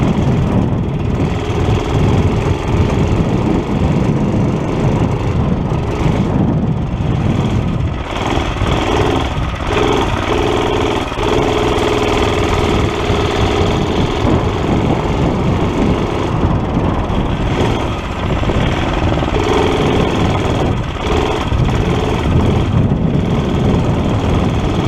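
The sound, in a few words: mini bike engine running and idling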